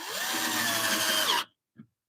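A power drill drives a screw through a faceplate into a wooden bowl blank, whirring loudly and steadily for over a second before stopping abruptly, followed by a short tap.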